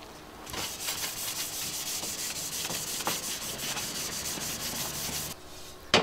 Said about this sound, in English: The sanding never ends.